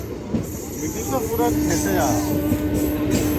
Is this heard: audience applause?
no